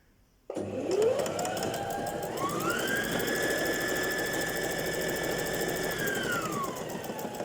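A Brother GS2700 sewing machine stitches a narrow zigzag, starting abruptly and running at a steady, fast mechanical whir with a rising hum as it picks up speed, close and loud, then stopping sharply.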